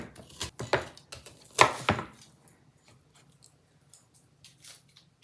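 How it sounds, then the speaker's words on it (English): Knife cuts through an onion on a cutting board, several sharp close chops grouped in the first two seconds, then quieter scattered taps in a mostly silent room. "We are going to take 1 sliced onion. We're just going to kind of do it in 4s."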